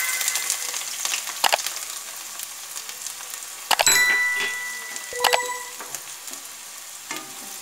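Garlic and onion fry in a spoonful of hot oil over a low gas flame, giving a continuous soft sizzle. Scattered clinks and scrapes of a stirring spoon against the pan cut through the sizzle.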